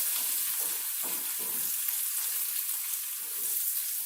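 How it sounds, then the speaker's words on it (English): Garlic and parsley sizzle in hot oil in a pan, a steady close-up frying hiss with soft crackles and spits scattered throughout. "You hear it sizzle together?"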